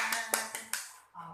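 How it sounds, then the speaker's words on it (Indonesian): Children clapping their hands along to a song, about four sharp claps in an even rhythm, close and fairly loud, with singing voices around them. "Kalau kau anak Tuhan tepuk tangan."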